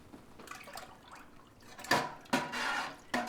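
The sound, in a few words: homemade buttermilk poured into milk for cottage cheese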